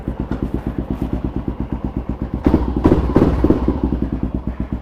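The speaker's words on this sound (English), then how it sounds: "Man, this bike runs so good." A Kawasaki KLR650 project motorcycle idles during a cooling-system test, its engine beating in an even, loping thump that swells a little louder midway before settling back.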